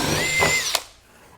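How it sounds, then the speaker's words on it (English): Power drill spinning a stinger spade bit through hardwood, a loud steady whine that cuts off after about a second with a sharp click, then quiet. "The stinger bit will go right through epay."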